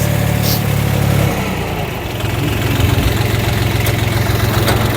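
A small YTO 244 SX tractor engine chugs steadily at a low idle during ploughing, loud and close, with a slight dip in pitch before settling back into its rhythm.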